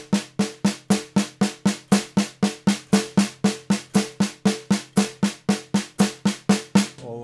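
Drum kit playing a steady run of sixteenth notes with quarter-note hi-hat accents, a fast even pattern of sharp, bright hits, close and alone, with no talking.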